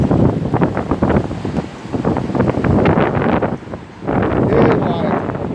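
Strong wind buffeting the microphone outdoors in a residential street, loud gusty roaring that swells and dips, with a person talking over it.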